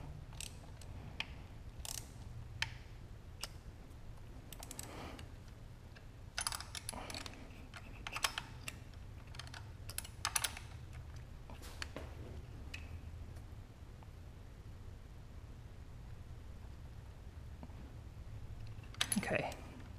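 A wrench tightens a bolt on a Porsche 944 during an LS engine swap, making faint, scattered clicks in short irregular bursts against a quiet background.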